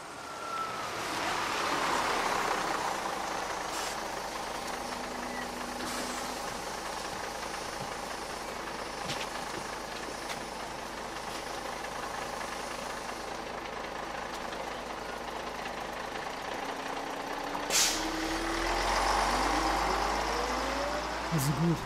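A bus idles and then pulls away in an audio drama, with a steady low engine drone and broad rumble that rises in pitch near the end as it departs, and voices speak over it.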